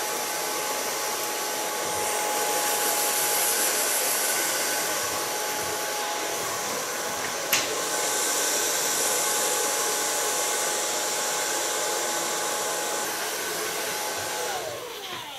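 A hair dryer blows steadily and loudly the whole time while hair is being blow-dried, a constant close airy whoosh with one brief click partway through.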